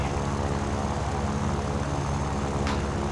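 Aircraft engine in the War Thunder video game droning steadily and loudly throughout, a dense continuous roar with no pauses or talk over it.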